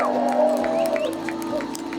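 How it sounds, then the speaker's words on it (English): A large crowd at a cancer-survivor Light the Night walk in Charlotte, North Carolina cheers and applauds outdoors. The sound is a steady, moderately loud roar with whoops, and a voice over the PA rings through it. "A big round of applause."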